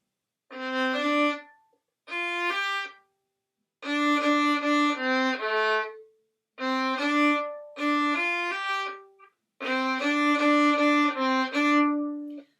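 Bowed violin notes played in short, separated phrases with clear silences between groups, a bright, close tone with no speech.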